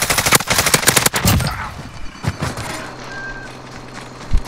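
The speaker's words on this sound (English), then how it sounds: "Just shoot him with your pistol!" Pistol fire in a first-person shooter video game: several sharp, loud shots cluster in the opening second and a half, then quieter game noise follows and one more crack lands near the end.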